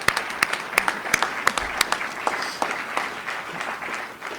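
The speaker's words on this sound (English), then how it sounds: "And can we please give them a round of applause?" Audience applause at a government child welfare event, a crowd clapping steadily with several distinct close, sharp individual claps standing out early on, fading slightly toward the end without speech.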